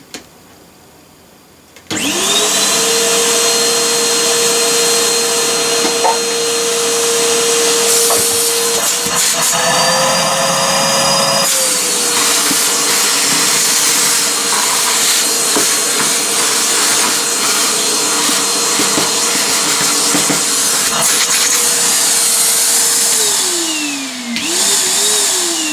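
A Henry Hoover vacuum cleaner, salvaged from a dumpster, switches on abruptly and runs loudly with a steady whine and hiss that shifts in pitch midway, then dips briefly near the end.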